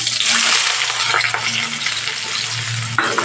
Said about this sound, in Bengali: পেঁয়াজটা ব্রাউন কালার ভাজতে দেব